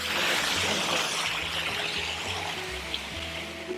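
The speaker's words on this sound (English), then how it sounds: "man-made waterfall, of course, on the right" A man-made waterfall at a hotel on Oahu makes a steady, moderate rush of falling water that runs continuously, with faint low hums of people talking in the background.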